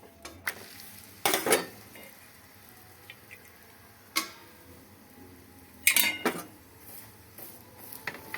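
Methi (fenugreek-leaf) paratha frying on a hot tawa with a little Dalda, a soft steady sizzle broken by a few sharp spatula scrapes and clinks against the pan, close and with no talking.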